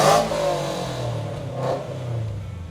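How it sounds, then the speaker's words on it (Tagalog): A car with an aftermarket HK exhaust revs hard from a standstill, a loud close roar that climbs and falls back in two bursts with a raspy, tearing edge over a deep idle rumble. "naka-HK exhaust siya and then kasi notorious yung gumawa sa kanya kaya talagang pumupunit yung sounds niya"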